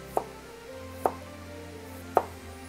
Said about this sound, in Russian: нужно нарезать имбирь.